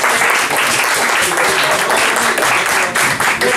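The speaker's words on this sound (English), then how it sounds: "can we give a round of applause?" A group gives a round of applause during a heart-monitor fitness practical session, loud close clapping throughout with some lively voices mixed in.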